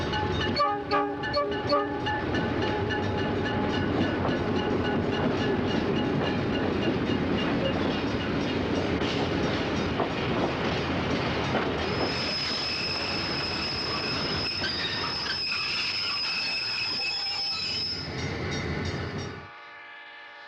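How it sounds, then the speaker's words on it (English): A train of old passenger cars rumbles into Blue Island station behind a worn red and yellow Rock Island E8A diesel locomotive, with steady rolling clatter, a long horn blast and a squealing, fading finish. "Another train of old cars arrives at Blue Island behind a very tired-looking red and yellow Rock Island"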